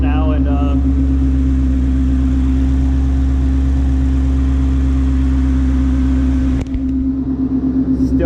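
A 2018+ Ford Mustang engine idles steadily in a garage after running about five minutes, a loud, even low drone that shifts abruptly near the end.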